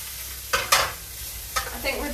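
Onions sizzle in a pan for risotto. A constant frying hiss is broken by several sharp scraping stirs, heard close up with no talking.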